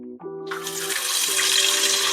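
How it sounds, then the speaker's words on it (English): Ribs dropped into oil heated to 350 degrees set off a hissing, bubbling fry that rises over a sustained tonal hum and keeps going steadily and close by, with no talk. "We're gonna let them things get a good fry on it."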